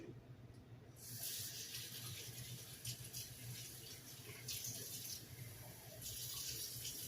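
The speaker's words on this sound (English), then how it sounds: "going to add probably about 2 tablespoons of water" A small splash of water, about two tablespoons, poured into a slow cooker holding pork and jarred peppers with their juice, a steady hissing trickle running for several seconds with short pauses.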